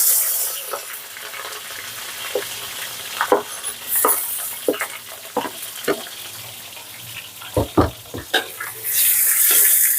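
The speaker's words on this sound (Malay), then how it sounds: "Okay, tumis sehingga agak-agak kuning lah." Onions sautéing in a pan with ginger, galangal, lemongrass and bay leaves for prawn taucu with winged beans, a steady soft sizzle broken by scraping stirs and clinks, with brief running water near the end.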